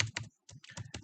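Rapid clattering keystrokes on a computer keyboard while code is typed, several quick bursts of clicks close to the mic with a short pause midway.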